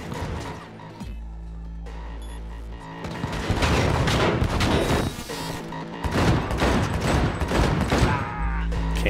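Rapid bursts of video game gunfire from Cyberpunk 2077, with repeated loud volleys and booming shots in clusters over several seconds, separated by brief quieter gaps.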